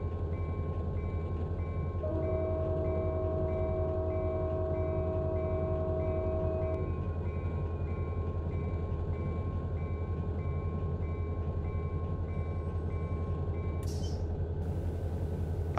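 A BNSF freight train in the Run 8 train simulator game rumbles steadily with a constant low drone, a horn-like tone sounding for several seconds early on and a brief hiss of air brakes near the end.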